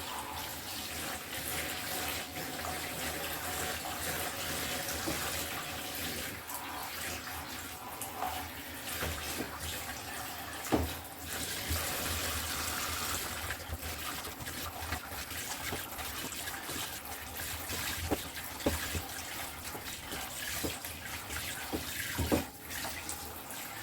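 Warm water from a shower head sprays steadily over the leaves of potted orchids, giving a continuous hissing, splashing rush with small irregular splatters throughout.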